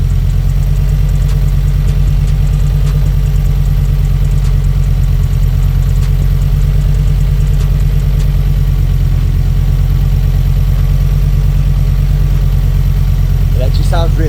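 A rebuilt Ford XR5 turbo engine runs at a steady idle, a loud, close, continuous low rumble with a fast regular pulse, and a voice briefly speaks near the end.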